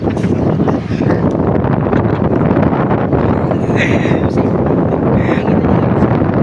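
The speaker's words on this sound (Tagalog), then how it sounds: "Ganito pa lagi sa Manila. Mahangin." Steady, loud wind buffeting the microphone, a continuous broadband roar with gusty rustling throughout.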